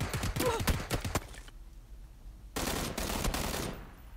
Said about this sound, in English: Able to get the final kill with the last few bullets in my gun